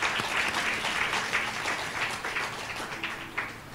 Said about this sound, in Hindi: ताली बजा के प्रभु को धन्यवाद देंगे।